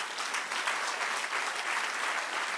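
Church congregation clapping during a class on church history, steady broadband applause at moderate level with no pauses, no voices over it.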